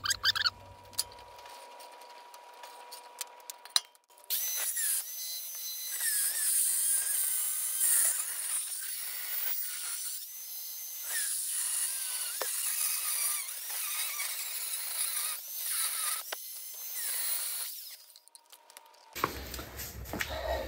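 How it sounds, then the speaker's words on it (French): A steel car part being ground and welded in a workshop gives a long, harsh, high-pitched grinding whine that runs steadily for most of the stretch, with quieter handling noise before and after. "maintenant je marque, je meule, je soude et je remonte"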